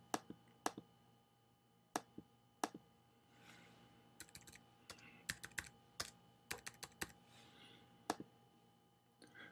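Typing on a computer keyboard, heard as irregular sharp key clicks in small bursts. The clicks are scattered through quiet pauses, close and soft, with no voices.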